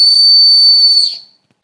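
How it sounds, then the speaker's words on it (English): A whistle from the board game Fled blown once: a single steady, shrill tone held for about a second, then fading quickly into silence, with no other sound around it. "we get the whistle."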